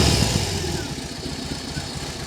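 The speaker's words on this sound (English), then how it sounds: "Watch the mirrors and the handlebars as I fire it up, because you will see the bike shift from left to right with that huge Boxer engine." BMW R18 motorcycle with its large boxer engine, heard idling close by as a low, uneven throb that is loudest at the start and then settles into a steady rumble.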